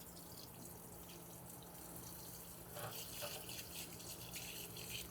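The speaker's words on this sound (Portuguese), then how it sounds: "Não tem problema água corrente aqui" Running tap water rinses a pan in a kitchen while making beef stock, a steady soft rush that swells louder past the midpoint, with no talk over it.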